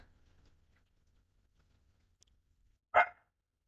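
A single dog bark sounds once at a moderate distance, brief and sharp, after near-silence with a faint low rumble.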